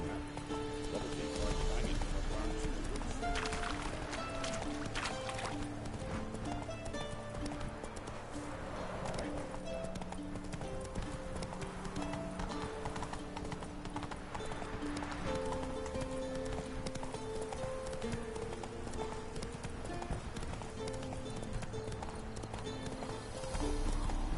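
Horse hooves clip-clop in a quick galloping rhythm in The Witcher 3: Wild Hunt, accompanied by game music and sound effects, with a voice speaking over parts of it.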